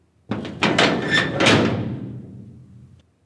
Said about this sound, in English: she blocked my path and then bolted the door